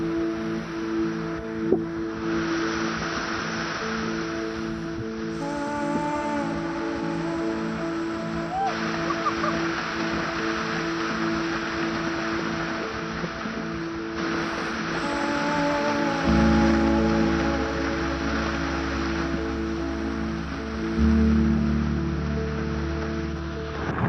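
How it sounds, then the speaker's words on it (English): A waterfall in Hawaii rushes steadily during flash flooding, a broad, continuous roar of falling water with a deeper rumble swelling in partway through. "you have to go behind that waterfall"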